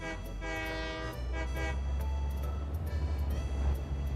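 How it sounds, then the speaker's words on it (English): A video game train horn blares in two short honks, then one longer one, over a low rumble of rolling wagons with no talk. "I do like that you can honk."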